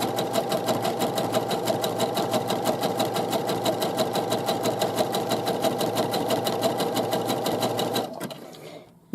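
A sewing machine zigzag-stitching the side seam of a garment runs in a fast, even mechanical rhythm for about eight seconds, then stops abruptly and leaves a brief quiet tail.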